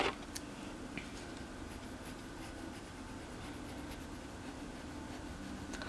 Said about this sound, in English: Got my eraser out and erase the lines I don't need.